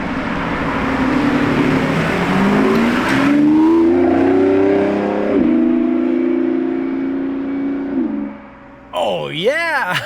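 A Lamborghini supercar engine revs and roars past, swelling loudly then fading, with a second engine note rising and falling near the end; excited voices exclaim over it.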